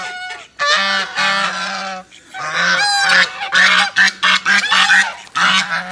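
A flock of domestic ducks kept alongside chickens calls loudly and close, a dense run of repeated honking quacks in quick bursts with no talk over them.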